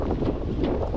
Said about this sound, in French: le coup de vent est toujours présent, d'ailleurs c'est plus fort demain